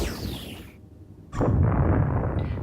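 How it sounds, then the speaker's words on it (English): A sound-effect explosion with a rushing boom that fades to near quiet, then a second loud, sustained rumbling blast that holds to the end. "Was that an explosion?"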